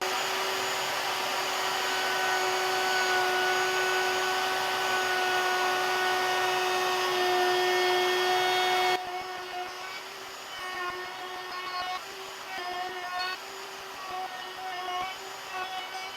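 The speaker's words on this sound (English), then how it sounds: "round over the edges on the router table" A router on a router table rounding over the edges of an oak piece, a steady high-pitched motor whine that drops to a quieter, uneven cutting hum partway through, close and without talk.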